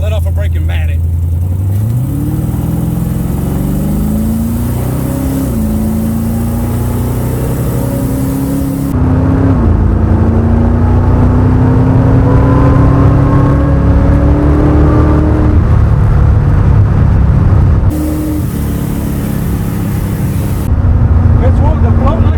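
A 1968 Camaro engine revs hard at full throttle on a street dyno, rising pitch climbing steadily through loud sustained pulls with brief shifts in between, close and very loud.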